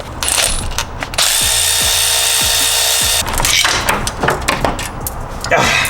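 A power tool whirs in a sustained burst of about two seconds while removing engine tensioner bolts, loud and close, surrounded by ratcheting clicks, metallic handling clatter and workshop knocks before and after.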